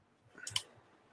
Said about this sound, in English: I haven't hit the link on there that you guys set up. Okay. I'm clicking.